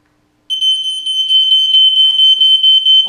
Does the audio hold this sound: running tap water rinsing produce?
no